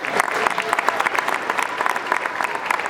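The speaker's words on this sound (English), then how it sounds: "One more round of applause for the saxophones." An audience at a sixth grade holiday band concert claps for the saxophone section, a dense, steady round of applause from many hands in a hall, lasting throughout.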